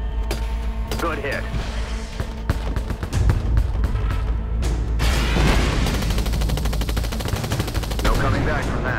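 Gunfire in the Drone 5: Elite Zombie Shooter mobile game, sustained rapid bursts and booming impacts throughout, loud and dense, with heavier continuous firing in the second half.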